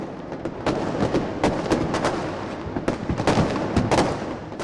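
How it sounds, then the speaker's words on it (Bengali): Rapid bursts of fireworks and firecrackers over Old Dhaka on New Year's night crackle and pop continuously, with sharp loud bangs scattered over a dense background of distant explosions. "মুহুর্মুহু আতশবাজি আর পটকার শব্দ বার্তা দিয়েছে পুরাতন বিদায়ের"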